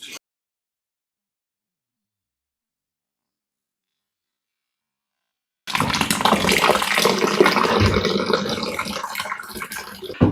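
Water pours steadily into a hypertufa mix in a tub, a loud continuous splashing gush that starts abruptly after several seconds of silence and runs to the end.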